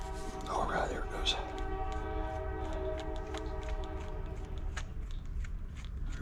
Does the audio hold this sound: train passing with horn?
yes